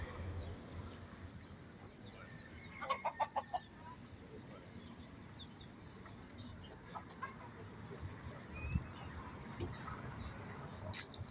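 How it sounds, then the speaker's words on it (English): Chickens cluck outdoors beside a church on an overcast day, a quick run of close clucks early on followed by scattered fainter calls over a low background hum, with a voice heard faintly. "Look, all these chickens."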